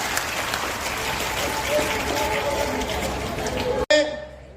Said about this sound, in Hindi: जोरदार तालियों से स्वागत करिए हमारे विधायक महोदय जी का।